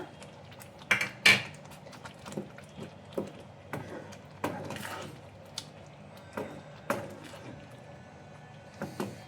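Fried paneer being stirred into palak gravy in a pan, with a spoon scraping and clinking against the metal in scattered knocks, moderately close and fairly quiet.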